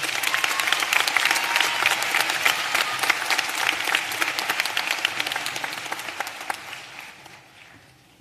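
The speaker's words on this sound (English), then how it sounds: "A warm round of applause, please." Sustained applause from a large audience at a 2022 graduate program commencement ceremony, dense steady clapping that holds strong and then gradually thins and fades toward the end.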